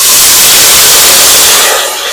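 Whole cardamom, cinnamon and cumin seeds hit hot oil for a tempering while mutton biryani is being cooked, giving a loud, steady sizzling hiss that fades slightly toward the end.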